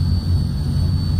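Turboprop engine of a Transall C160 spooling up during start, a steady loud low roar with a constant high whine, heard close and continuous with no talking.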